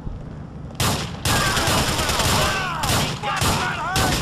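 Rapid bursts of gunfire in Grand Theft Auto IV, loud sharp volleys that start abruptly and repeat in several clusters with brief pauses between them.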